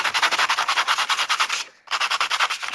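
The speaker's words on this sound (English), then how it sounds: "So I'm going to see if I can use my sandpaper on this." Sandpaper rubbing back and forth over a surface while making a laundry room craft, a steady run of rapid, even scratchy strokes close up, a brief pause, then the rhythmic sanding resumes.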